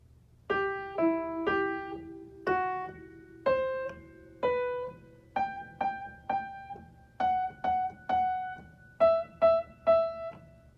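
Piano notes in a repeated short-short-long rhythm stepping downward from E, ringing out clearly and alone with brief pauses between groups, from Dance of the Sugar Plum Fairy.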